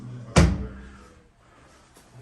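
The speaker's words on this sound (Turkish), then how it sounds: "Biraz kapıyı açayım." An apartment bathroom door in Nea Smyrni, Athens, opens with a single sharp knock and rattle that fades into a quiet room.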